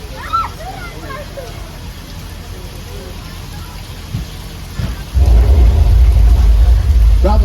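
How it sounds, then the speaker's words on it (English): Artificial rain from a hidden overhead sprinkler on the Universal Studios tour: steady hiss of falling water that surges much louder near the end into a heavy downpour, with faint voices and a thunder-like rumble. "rain is created by an overhead sprinkler hidden from view"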